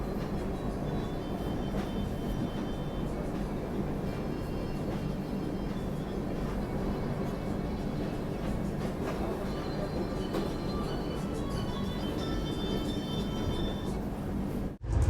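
The Prayagraj Duronto Express running at night, heard from inside a first-class AC coupe as a loud, steady rumble and rattle of wheels on track that continues without a break, with a brief knock near the end.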